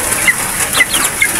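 A Milsim Black rooster and a hen cluck in a backyard farm setting, with short, repeated, fairly close calls over a steady, noisy outdoor background.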